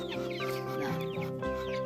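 Chickens cluck near ducklings on a family farm, making repeated, fairly close, rhythmic clucks and short calls that run through the whole moment.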